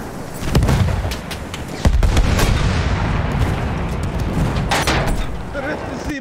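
Dense battlefield gunfire and booming explosions from the video game Battlefield 1 roll on continuously, loud and close, with several sharp cracks standing out and a player's voice briefly audible.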